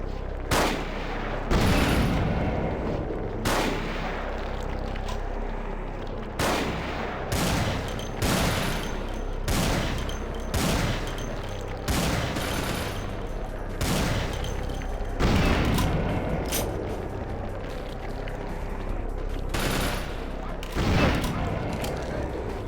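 Bombs burst again and again in the Vampire: The Masquerade – Bloodlines video game, played with the Final Nights mod. Loud booming blasts and gunfire-like cracks come in close, rapid succession throughout.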